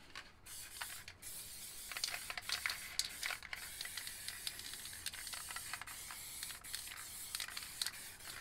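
MTN 94 or Montana Gold aerosol spray paint can spraying, a close, continuous airy hiss with short sputters and brief gaps from a slightly spitting cap.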